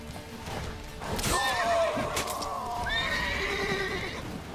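Panicked horse in The Witcher 3: Wild Hunt gives two shrill, descending whinnies over the sound of its hooves, loud and near, with no speech.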